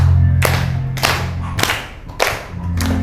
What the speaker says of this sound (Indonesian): Oke, bisa tepuk tangan.